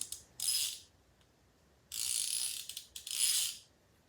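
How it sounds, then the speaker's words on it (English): Close, crisp clicking from the pawl of an ICON ratchet during a back drag test, heard in three rapid bursts separated by short pauses. "Now let's do a back drag test on the icon."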